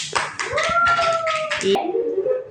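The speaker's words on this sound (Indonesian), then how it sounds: "Beri tepuk tangan untuk teman-temannya." Brief scattered clapping from a small group of children in a classroom lesson, with children's voices mixed in and a tonal sweep rising through it, ending abruptly.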